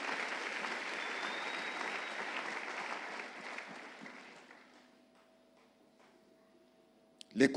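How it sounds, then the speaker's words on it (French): A church congregation applauding God during a pastor's sermon, sustained clapping from the crowd that gradually thins and fades to near silence, with a faint tone lingering underneath. "On peut acclamer Dieu"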